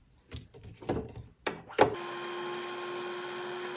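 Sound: sewing machine winding thread onto the bobbin

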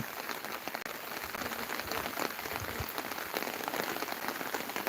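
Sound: rain

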